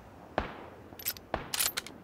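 Gunfire in the battle royale shooter PUBG: two sharp distant single shots followed by a quick burst of crackling reports, fairly faint over quiet game ambience with no talking.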